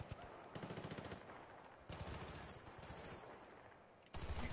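Rapid automatic gunfire in Battlefield Bad Company 2 rattles in several sustained bursts with short gaps, loud and close, with sharp repeated shots over a busy game soundscape.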